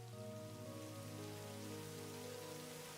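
Modded Minecraft rain falls as a steady, even hiss of drops hitting surfaces, quiet and continuous throughout, with a low tonal background hum and no talking.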